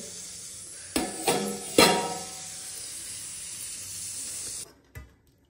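A pot of water heating on a home stove gives off a steady close hiss, broken early by a few sharp clanks and knocks of metal, before the hiss cuts out and one last clunk sounds.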